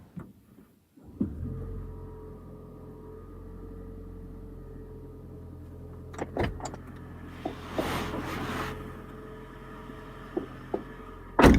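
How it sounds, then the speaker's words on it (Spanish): A hybrid car's petrol engine cranks into life and settles into a steady low idle hum, with a few clicks and a brief louder rumble midway and a thump at the end. "pulsamos el acelerador y el motor de gasolina entra en marcha"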